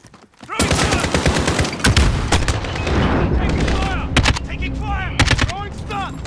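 Dense gunfire from the video game Call of Duty Modern Warfare (2019): loud, close rapid bursts and cracking shots overlapping almost continuously, with heavier booms mixed in throughout.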